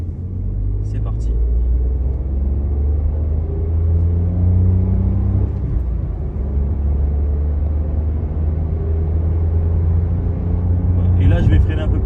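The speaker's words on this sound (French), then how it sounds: "Je vais accélérer un peu plus là, dans cette ligne droite" A Toyota Yaris accelerates along a straight, its engine a steady low rumble and road drone heard from inside the cabin, with a person talking throughout.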